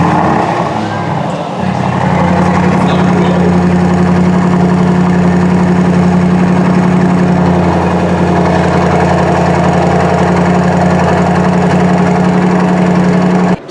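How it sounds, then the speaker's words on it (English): An Aston Martin DBX 707 fires up and settles into a loud, steady idle, a deep exhaust burble with a strong low hum running continuously after a brief start at the beginning. "And those exhaust pipes, as we will hear now, are very fruity indeed."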